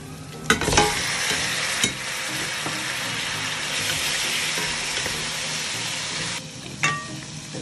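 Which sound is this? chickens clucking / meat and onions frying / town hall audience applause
meat and onions frying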